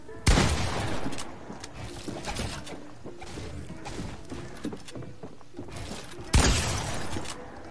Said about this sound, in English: A 99 damage pump shot.